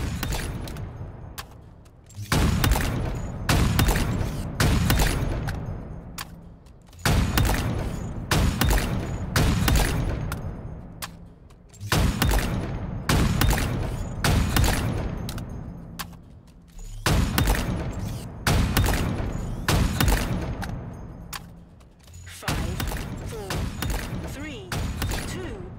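Gunfire in the shooting-gallery video game Guvernor's Gauntlet comes in repeated loud bursts of rapid shots separated by short pauses, with a voice talking in between.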